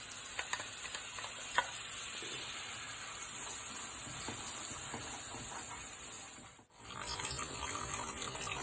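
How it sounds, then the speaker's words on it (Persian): Tomato paste and tomato purée fry in a pan for Persian chicken and barberry rice, giving a close, steady sizzle and hiss with scattered stirring scrapes and a brief dip near the end. "اول رب رو میریزیم و بعد از اینکه رب یکم تفت خورد بهش آب گوجه فرنگی، یعنی پوره گوجه فرنگی اضافه میکنیم"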